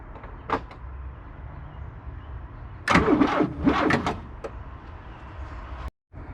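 A Black Rampage's engine cranks on a key start attempt after a quiet idle stretch, a loud burst of starter churning lasting about a second, followed by a couple of softer clunks and a brief cutoff, no voices heard.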